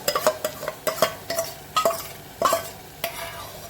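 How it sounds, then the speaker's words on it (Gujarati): A spoon scrapes and clinks in a pan as curd paste is stirred into papad sabzi, with a soft sizzle underneath, the stirring strokes coming in an uneven rhythm. "હવે એમાં આપણે જે દહીંની પેસ્ટ કરી હતી એ એડ કરી દઈશું."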